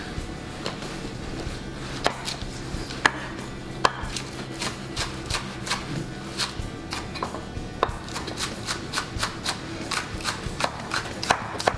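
Green onions being chopped with a knife for a salmon slaw, a steady run of crisp, evenly spaced knife taps on a cutting board, fairly close and moderately loud with no talking.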